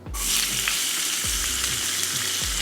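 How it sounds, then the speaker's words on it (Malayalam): Loud, steady sizzling of onion frying in hot oil, close up, with a few soft scraping stirs and knocks against the pan. "സവോള ചേർത്തിട്ട് ഇത് ഗോൾഡൻ ബ്രൗൺ ആവാൻ വേണ്ടി വെയിറ്റ് ചെയ്യേണ്ട"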